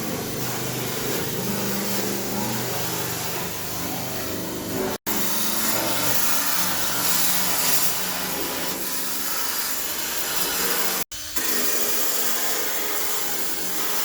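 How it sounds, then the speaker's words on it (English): A grinder works on a Miata car body in a shop, a loud continuous abrasive whir with two sharp cutoffs, close and steady with no talk. "I think while James is grinding away over there"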